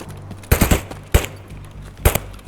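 Gunfire in the first-person shooter Escape from Tarkov on the Woods map comes as three loud, close bursts of rapid automatic shots, separated by quieter gaps with a faint background hum.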